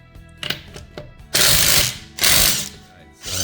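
A RIDGID R872081B 18V sub-compact 1/2-inch impact wrench loosens lug nuts: a few soft mechanical clicks, then two loud, rapid hammering bursts about a second each, with a third starting at the end.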